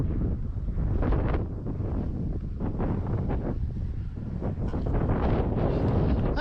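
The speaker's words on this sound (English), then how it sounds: "But wind is out from that direction there, out of the northeast" Strong gusts blow across an RC flying field and buffet the microphone, giving a loud, continuous rumbling roar with surging peaks and no clear speech.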